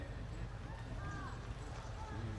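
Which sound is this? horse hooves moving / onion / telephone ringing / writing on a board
horse hooves moving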